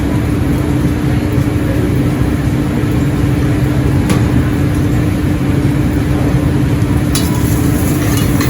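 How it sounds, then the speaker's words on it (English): Chorizo sautés in oil in a pan for a mussel dish in creamy tomato sauce, giving a loud, steady sizzle over a constant low hum, with a couple of sharp clicks and no talking. "add chorizo to the oil, to the pan. Start to saute those."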